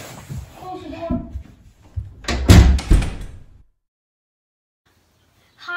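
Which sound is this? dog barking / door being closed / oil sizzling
door being closed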